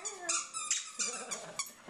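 Indoors, a dog growls and whines playfully with a squeaky toy, giving short high squeaks and low rumbles in quick uneven bursts, close and moderately loud.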